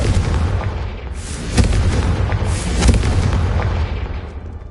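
Confringo, an explosive fire spell cast in Hogwarts Legacy, sounds as a loud, sustained rumbling blast with booming bursts layered over a continuous roar, close and without talk.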